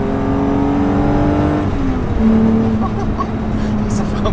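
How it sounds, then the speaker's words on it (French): A BMW M5 E28 sedan's engine held near 4500 rpm, a loud, steady droning growl with strong harmonics that shifts pitch slightly partway through, heard from inside the car under road noise. "Et ce moteur, oh, le bruit à 4500"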